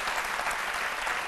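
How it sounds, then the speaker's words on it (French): Steady applause from an audience, a dense wash of clapping that holds evenly throughout. "Merci de bien applaudir Aloussène."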